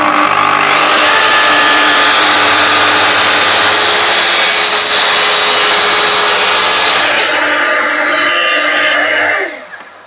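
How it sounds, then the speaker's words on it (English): A plunge saw whines at full speed while cutting through timber, a loud, close, steady high-pitched roar that holds for several seconds before spinning down at the end. "it's always best with a saw like this to start the saw up before you actually push the plunge down"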